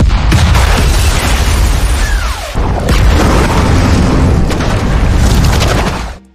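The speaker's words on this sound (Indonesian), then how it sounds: "pesawat membom datang membumi hanguskan para monster pengejar" Bomber planes in a monster film drop bombs, and a continuous roar of heavy explosions fills the scene. The blasts are loud and dense and run back to back, with a short dip in the middle and a fade at the end.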